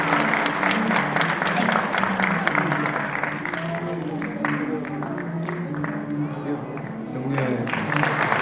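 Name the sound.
applause at graduation ceremony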